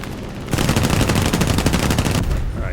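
P-36G fighter plane guns fire in War Thunder, a loud sustained rattling burst of rapid machine-gun shots lasting nearly two seconds, then cutting off.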